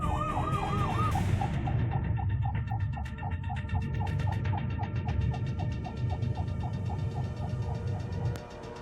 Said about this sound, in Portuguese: A ambulância tá passando.